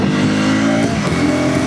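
A KTM Adventure 250 motorbike engine revs and accelerates close by, a steady loud drone with rising harmonics that dips briefly midway, with no talking over it.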